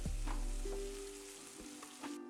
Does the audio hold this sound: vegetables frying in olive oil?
yes